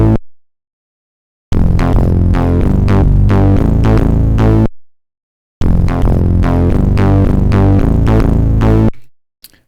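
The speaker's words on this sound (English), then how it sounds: "so that was the bass, that was Plogue's PortaFM" Chiptune-style synthesizer bass line from the Plogue PortaFM FM plugin, played alone in two loud, sustained phrases separated by a short silence, with dense buzzy harmonics and heavy clipping.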